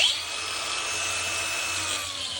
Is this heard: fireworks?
no